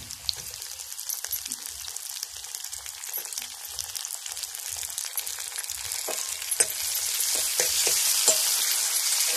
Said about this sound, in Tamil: வெங்காயம் வதங்கி இருக்குது, கொஞ்சம் ப்ரௌன் ஆயிடுச்சுன்னா அடுத்து தக்காளி போட்டுடலாம்